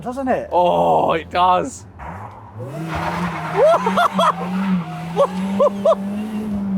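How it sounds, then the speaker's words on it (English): A supercharged Alfa Romeo V6 car pulls hard, its engine note droning steadily and rising in pitch under excited talk and laughter from people in the cabin. "Oh, it makes supercharger noises!"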